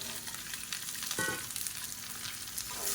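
Cut green beans sauté in hot oil in a pan, a steady soft sizzle with a brief scrape of stirring, close and alone without voices.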